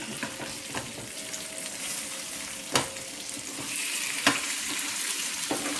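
Fish frying in a pan, Coastal Andhra style, makes a continuous hiss and crackle of hot oil, with a couple of sharp clicks as it is handled and a slight rise in sizzle toward the end.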